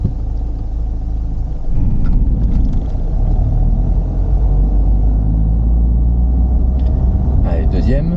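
Manual car driven during a gearbox lesson, its engine rumbling steadily close by with a mid-clip rise as it pulls away, under continuous instructor speech.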